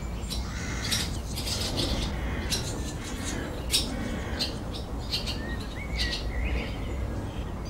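Blackbird chicks call near their nest among overgrown abandoned tennis courts, a scatter of thin, high chirps and short squeaks repeating at irregular intervals over a soft outdoor background hush.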